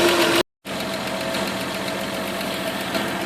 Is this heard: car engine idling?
yes